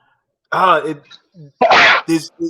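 A single sharp sneeze bursts out after some talking, with speech resuming right afterward.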